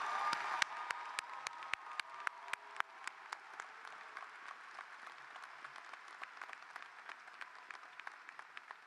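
Applause for university faculty members at a UHart undergraduate commencement ceremony: a sparse, thinning round of clapping with sharp individual claps, fairly distant and quiet, fading over several seconds.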